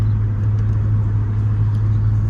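A 1995 Chevrolet Caprice with a 5.3 LS engine swap cruises on a city street, heard from inside as a steady loud low engine drone with road rumble and no change in pace.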